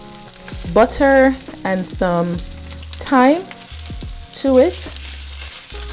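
Lamb chops with garlic and herbs fry in a pan with butter and thyme, a soft continuous sizzle running beneath a person speaking throughout.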